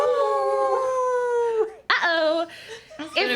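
A person's voice imitates a wolf howling, a long sustained rising-and-falling wail, loud and close, followed by a couple of shorter yelping vocal bursts.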